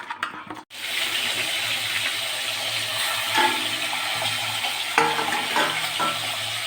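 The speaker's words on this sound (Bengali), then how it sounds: "আর এদিকে কড়াইতে সর্ষের তেল গরম বসিয়েছি। মাছগুলো একটু ভাজবো।" Mustard oil sizzles and crackles steadily in a wok as catla fish heads fry, after a brief clatter, with occasional stirring scrapes.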